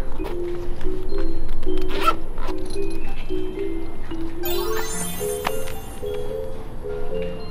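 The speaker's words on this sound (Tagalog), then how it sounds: "You have to open suitcase number 15." A suitcase zipper is pulled open in one long steady run with a repeating ratchet rhythm, close and clear, while light chatter and clatter carry on behind it.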